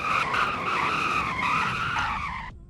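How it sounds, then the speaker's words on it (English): Car tyres screech in a long, loud, wavering skid as a fully electric car brakes hard in a video game, close up, before the squeal cuts off abruptly. "Lots of skid marks were made"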